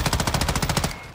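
Rapid automatic gunfire in Call of Duty DMZ, a steady, fast burst of evenly spaced shots lasting about a second, loud and close, with no voices over it.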